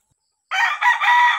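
A Rhode Island Red chicken crows once, loud and close, after half a second of silence; the harsh, strained call runs about a second with brief breaks and no talking.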